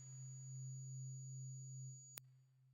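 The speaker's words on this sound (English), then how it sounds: "and then we have this tinnitus sound." A steady sine tone used as a tinnitus effect in the PS Sounds Khagan V4.1 virtual instrument, with a low hum under a thin high whine that holds for about two seconds before a brief click cuts it off.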